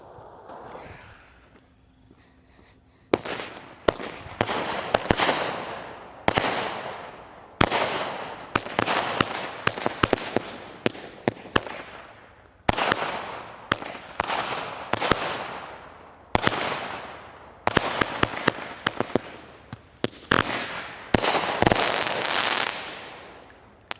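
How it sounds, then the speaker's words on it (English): A Winda Top Maverick 200 gram firework cake fires loud outdoor volleys of sharp bangs and crackling bursts, horsetails with a brocade finish, in repeated rapid clusters separated by brief pauses, after a few quiet seconds. "I like those horsetails in there. Little brocade finish. But that one goes off in volleys like that."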